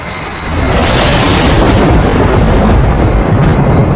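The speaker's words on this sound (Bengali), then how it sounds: "হঠাৎ কড় কড় কড়াত শব্দে এক প্রচন্ড বজ্রপতনের আওয়াজে সজাগ হয়ে উঠে দেখি" A thunderclap sound effect in a spoken ghost story, a sudden loud crash that swells into a sustained deep rumble and roar, filling the clip with no voice over it.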